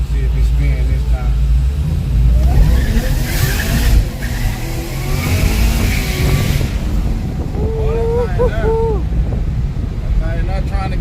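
A race car's engine rumbles and revs as it makes a pass at a racing park, buffeted by heavy wind noise, with people talking over it throughout.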